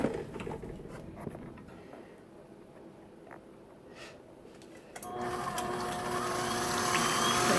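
An electric mixer whisks Swiss meringue buttercream, switching on partway through and settling into a loud, steady high-speed whir that continues to the end after a quieter stretch.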